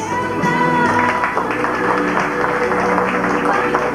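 Audience applause at a theology graduation ceremony, steady dense clapping lasting throughout at moderate loudness, with a faint background hum.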